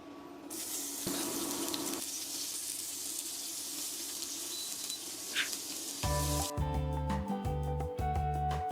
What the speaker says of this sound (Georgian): ეხლა იგივე ტაფაზე შევწვათ ჩვენ ხახვი.